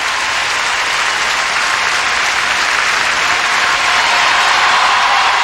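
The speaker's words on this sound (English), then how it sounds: "The applause still hasn't subsided here in the building for Anissina and Peizerat." Sustained, loud applause from a full arena audience after an ice dancing performance at the Grand Prix Final in Lyon, a dense steady roar of clapping with no let-up.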